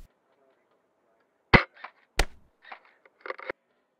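A budget airsoft sniper rifle fires with a sharp, close snap, then a second crisp crack follows, with quieter rustling and handling noises in between.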